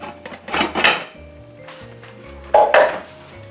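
A cooking pot for pasta water being handled on a stovetop, with two bursts of metallic clanks and clinks of pots and pans, moderately close, separated by quieter stretches.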